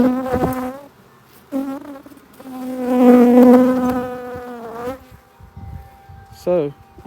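A honey bee swarm hums around a hive box in sustained buzzing waves that swell loudly in the middle, close to the listener, with brief pauses between bursts.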